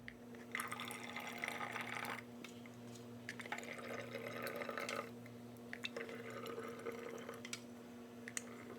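Homemade ghost pepper and Carolina Reaper hot sauce pours into a jar in three quiet glugging streams, each lasting a second or two with brief pauses between, close but faint over a low steady hum.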